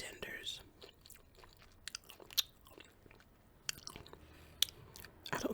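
Close, quiet chewing and biting of Popeyes chicken strips, spicy tenders, with irregular crunchy bites and mouth sounds throughout, recorded in an intimate ASMR style with no talking.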